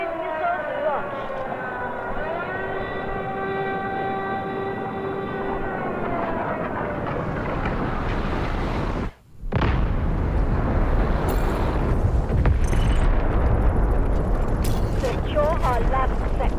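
Guided missiles launching and exploding in the shooter game Delta Force: a long rising, roaring whine holds for several seconds, cuts out abruptly, then a heavy rumbling blast and crackling debris follow, with voice chatter mixed in.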